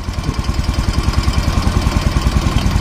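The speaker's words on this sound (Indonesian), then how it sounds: "Ini suara rantai keteng juga ada nih." A motorcycle engine idles up close with a fast, even ticking knock from a loose cam chain, repeating in a steady rhythm over the running motor.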